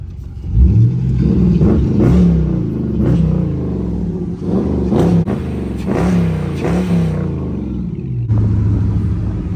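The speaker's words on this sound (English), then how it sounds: "Couple revs from the inside of the car." A Dodge Charger R/T engine revs repeatedly, heard from inside the car with its doors removed: loud, close bursts of throttle that rise and fall several times in a row.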